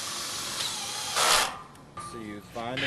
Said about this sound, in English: Use the number 2 square drive self-drilling screws to fasten the brackets to the building frame.